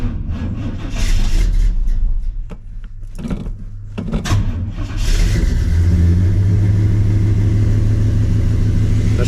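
A 1985 Chevrolet C10 pickup, unstarted for about a week and with its choke working, cranks for several seconds, then fires and settles into a loud, steady, rumbling idle close by.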